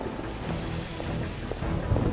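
Steady rain falls with a constant hiss while deep thunder rumbles underneath, a dense continuous storm with no voices.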